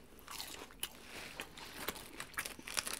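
Crunchy takoyaki from a bento box bitten and chewed close to the mic, a quick run of crisp crunches and soft mouth sounds, fairly quiet.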